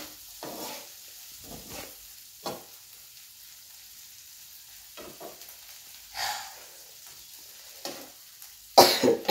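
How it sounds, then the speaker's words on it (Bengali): Noodles fry in a pan while being stirred. Quiet sizzling runs underneath, broken by intermittent scraping strokes every second or two and a louder clatter near the end. "ও এখন নুডলস পাকাবে নিজে নিজে"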